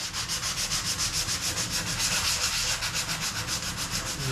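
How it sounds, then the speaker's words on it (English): Steady, rhythmic sanding by hand down a white-painted surface, quick scratchy back-and-forth strokes rubbing across it, close and continuous. "start sanding out all that stuff and kind of bring the surface, start bringing this surface down"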